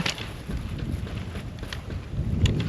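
Cold winter wind buffeting a microphone at a frozen campsite, a steady low rumbling gust noise with irregular swells and a few faint knocks, no voices.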